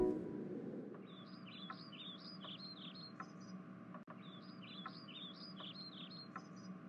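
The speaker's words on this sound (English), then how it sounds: "Bird, oh, bird, sing." An animated bird chirps a quick repeated song phrase, a burst of bright tweets that pauses and then repeats, clear and fairly close over a quiet steady background hum.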